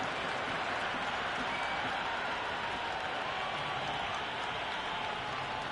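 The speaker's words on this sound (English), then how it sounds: "There's a buzz, a real buzz coming from the stands." A cheering stadium crowd at a cricket match in the video game Cricket 26, heard as a steady, loud roar of massed voices and applause that fills the whole clip without a break.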